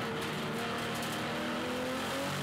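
BMW race cars charge through the last lap at Hampton Downs, a steady, loud engine drone with sustained revving and a layered roar from several cars running together.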